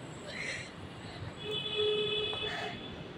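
Metro train ride toward Nerul in Navi Mumbai, with a steady rumble of the moving carriage, a rising electric whine and brief tonal squeals partway through, fairly close and continuous with no talk.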